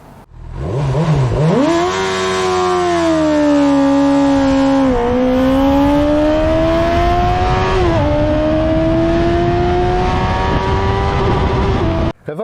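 A Honda CB 1000 R motorcycle engine revs up hard and holds a loud, rising high-rpm howl, climbing in pitch in steps before cutting off abruptly at the end.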